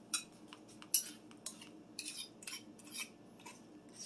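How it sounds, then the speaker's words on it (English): A metal spoon scrapes and clinks against a bowl of sour cream cranberry muffin batter, a series of quick, irregular taps and scrapes, quiet and close, with no talk. "Scrape everything off that spoon."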